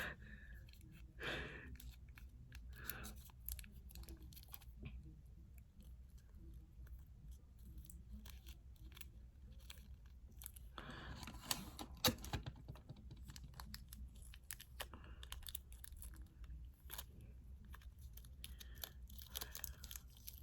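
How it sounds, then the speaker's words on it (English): Paper being taped onto a cardboard toilet paper roll ring, with soft crinkling, tearing and tapping bursts around the start and a denser patch of handling noise midway, close and fairly quiet. "let's tape on the paper onto the toilet paper ring"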